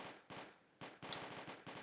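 Musket volleys crackle in a Napoleonic Wars battle game set at Lappo in 1808, coming as several sharp, noisy bursts in rapid sequence, close and fairly loud, with no voices.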